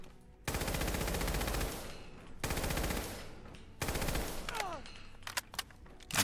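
A modded service rifle fires in Fallout 4 in loud sustained rapid bursts, split into three long strings with brief pauses between them and a few sharp single shots at the end.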